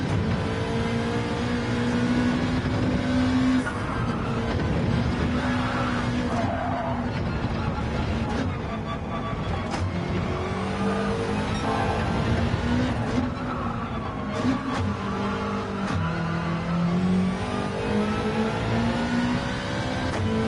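A Gr3 race car at Deep Forest Raceway in Gran Turismo 7, the engine revving and rising through gears with brief tire squeal, loud and continuous over twenty seconds.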